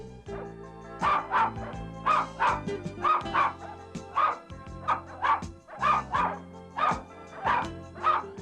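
Sapsali puppies, a Korean shaggy dog breed, yip and bark over and over in a kennel holding about a dozen young pups. The sharp, close yips come in rapid bursts with short pauses between them.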